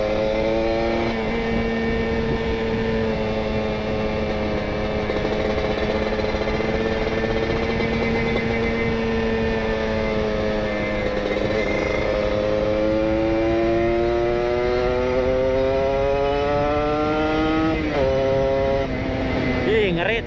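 A Kawasaki Ninja RR two-stroke motorcycle with a PWK28 carburetor and an R9 Neo Muggelo carbon exhaust revs loudly and steadily up close, its buzzing tone holding for a long stretch, then climbing and dipping through quick throttle blips near the end.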